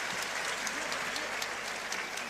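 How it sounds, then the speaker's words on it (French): A knowledgeable crowd at a Thai boxing ring applauds a fighter, steady dense clapping filling the whole moment. "D'ailleurs, il est applaudi, c'est pas pour rien"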